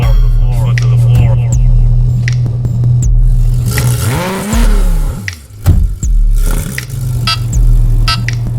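A car engine drones steadily at close range, then rises and falls in a sweeping rev as it accelerates midway, with faint background murmur throughout.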